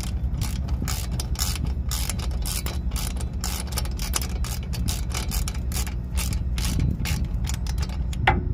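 Ratchet wrench loosening hub assembly bolts on a Chevy Silverado pickup, a rapid continuous clicking of the pawl, close and loud throughout.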